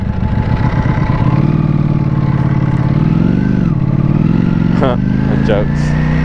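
Ducati Panigale V4S sportbike engine rumbling close by on a London city street, with a low throbbing idle that rises and falls in short blips, and someone talking over it.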